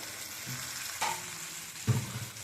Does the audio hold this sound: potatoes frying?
yes